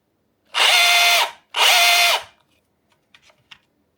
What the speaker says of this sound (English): And let's see, just drilling.